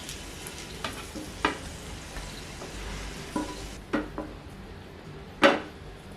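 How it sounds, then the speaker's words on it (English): Boiled eggs tossed in hot oil with spices in a pan, a continuous soft sizzle broken by several sharp scraping and clattering hits of a spatula against the pan, close and without speech. "And toss them for around a minute till the eggs are well coated with the spices."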